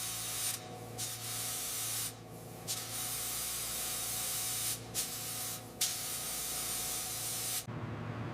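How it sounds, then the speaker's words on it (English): Primer sprays from a paint gun onto a 1937 Fiat 500 Topolino in a steady, close hiss, broken by several short pauses as the trigger is released and pulled again, then cut off at the end. "The primer coat is laid down perfect, ready for the next stage of paint."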